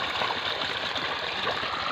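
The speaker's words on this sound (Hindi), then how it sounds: "ये देखो यहाँ पर पानी चल रहा है इस पौधे की तरफ" Irrigation water flows steadily toward a cotton plant in a farm field, a continuous close rushing and gurgling trickle that stays loud and even throughout, with no speech.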